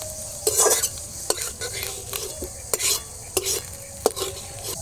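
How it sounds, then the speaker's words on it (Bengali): Small fish frying in a little oil in a pan, a soft continuous sizzle broken by repeated metal utensil scrapes and clinks as the pieces are turned and lifted, close by and with no voices. "অল্প তেল দিয়ে ভাজা হয়ে গেল মাছগুলো"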